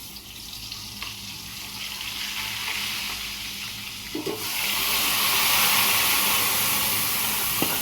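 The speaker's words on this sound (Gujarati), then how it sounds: "લસણ વઘારમાં નાખીશ" Garlic drops into hot tempering oil, and the steady background hiss swells midway into a louder, sustained close sizzle that holds to the end.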